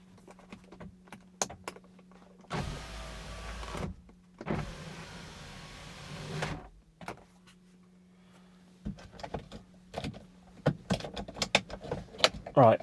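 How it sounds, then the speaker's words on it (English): A car's power window lowering: two steady motor whirs of a few seconds each over a low hum, close up, with clicks and small handling noises before and after, no talk. "Okay, so the window's dropped."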